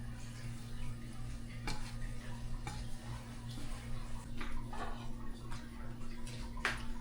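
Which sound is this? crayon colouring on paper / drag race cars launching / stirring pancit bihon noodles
stirring pancit bihon noodles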